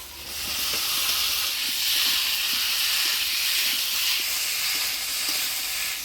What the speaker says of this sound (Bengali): এবার এই মশলা কষানোর মধ্যে দিয়ে দেবো আলু পটল ভাজা